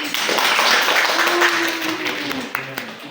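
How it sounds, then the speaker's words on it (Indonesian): Steady applause from a class of tenth-grade students during a practice teaching lesson on Islamic prayer, fairly loud and continuous for a few seconds, with a voice rising above the clapping. "Saya tepuk tangan buat kita semuanya."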